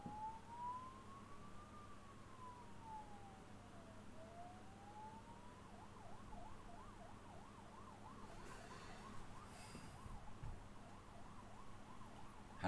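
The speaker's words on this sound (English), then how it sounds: "I'm gonna miss those ambulances when I move to like a normal street." Ambulance sirens on a city street, faint and distant, sweeping slowly up and down before switching to a faster warbling wail as they pass, under a low hum.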